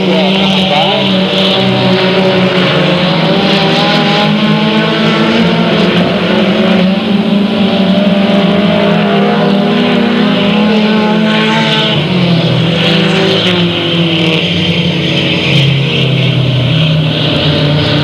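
Race cars roar past on the oval at Delta Speedway, a loud continuous engine drone with rising and falling pitch as cars sweep by, an announcer's voice faintly under the noise.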